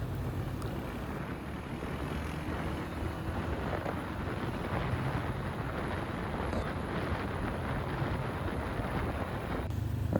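Steady, loud wind roars and buffets against the microphone on a motorbike ride at night near Balakot, a continuous broadband rush with no talk.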